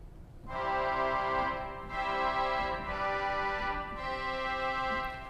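Pipe organ holds bright, buzzy string-stop chords from narrow pipes with a thin, sizzling edge, several sustained chords changing slowly, fairly soft and unaccompanied.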